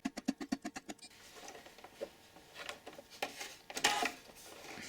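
A sewing machine zigzag-stitching over yarn runs in a quick burst of rapid rhythmic clatter, then stops, followed by scattered soft rustles and clicks.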